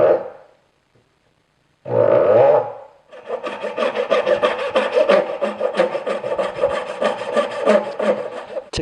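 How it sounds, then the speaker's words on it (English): A crosscut hand saw cuts wedge reliefs into a wooden tenon for a trestle table leg, with a couple of short starting strokes followed by a steady run of rapid, rasping back-and-forth strokes, close and loud. "I'm going to use my crosscut saw to cut the reliefs for the wedges that will be driven into the tenons"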